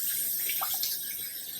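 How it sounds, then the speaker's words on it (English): Tap water pours steadily into a pot of potatoes in a continuous hiss and splash, fairly loud and close, with no voices. "Add some water"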